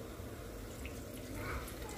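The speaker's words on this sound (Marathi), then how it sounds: "आता आपण याच्यामध्ये ग्रेव्हीचं जे आपण पाणी ठेवलं होतं ते आपण ॲड करून घेऊ." Reserved water poured into a cashew curry gravy in a pan, a low steady wash of liquid lasting a couple of seconds, fairly faint and continuous with no talking.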